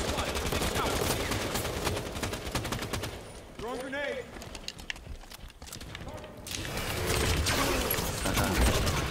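Assault rifle gunfire in Halo 5: Guardians multiplayer beta, with rapid, dense bursts of shots at the start and end, a quieter stretch in between, and a voice talking over it.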